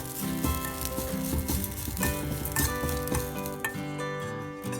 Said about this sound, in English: Now stir the entire thing thoroughly till the grated coconut is brownish in